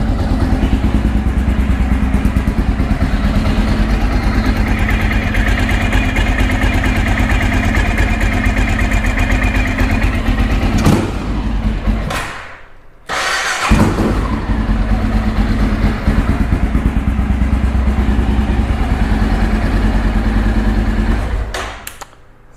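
A Honda XR650L motorcycle engine idles steadily after a valve adjustment, a continuous close low rumble with a brief dip and restart in the middle and no talk over it.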